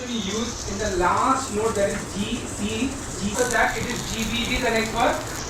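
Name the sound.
shallow frying brinjal slices in oil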